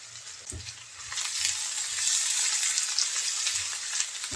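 Chopped onion and green chili fry in hot oil as a steady, bright sizzle, with a few dull stirring knocks from a utensil in the pan. The sound is close and loud, with no voices.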